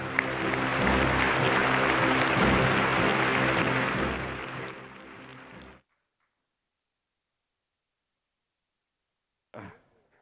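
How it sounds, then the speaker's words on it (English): Audience applause at a blockchain summit report launch, a dense, steady clapping that fades out after about six seconds, followed by silence and a brief short noise near the end. "Give them a big round of applause, everyone."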